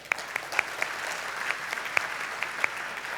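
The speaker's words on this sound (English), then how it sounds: "please join me in a round of applause for our collective achievements" An audience at a graduation ceremony applauds continuously, a steady wash of many hands clapping with a few sharper individual claps standing out, heard from some distance and at moderate volume.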